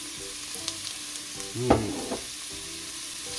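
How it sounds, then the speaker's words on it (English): A steady, hissing sizzle of onions frying in hot olive oil in a sauté pan, with a few soft stirring knocks and clinks over it. "Nice little sizzle."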